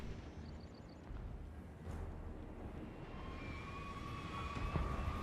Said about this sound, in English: Let the mortars get a few more shots.